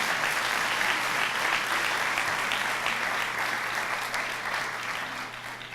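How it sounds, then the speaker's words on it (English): A press conference audience applauds, a sustained round of clapping from many hands at moderate distance that gradually fades toward the end, with a low steady hum underneath. "So a round of applause, please"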